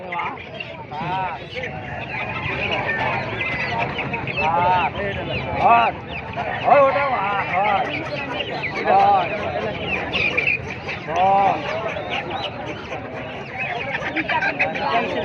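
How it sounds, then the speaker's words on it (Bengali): A poultry market where chickens and young chicks are sold is full of overlapping clucks and squawks that rise above a steady hubbub of crowd babble and voices, with several louder calls throughout. "এই যে 120 টাকা পিস মুরগিগুলো বিক্রি হচ্ছে, মুরগির বাচ্চাগুলো।"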